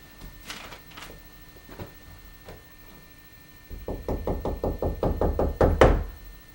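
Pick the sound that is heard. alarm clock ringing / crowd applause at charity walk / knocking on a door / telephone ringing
knocking on a door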